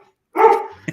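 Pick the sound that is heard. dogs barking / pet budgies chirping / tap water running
dogs barking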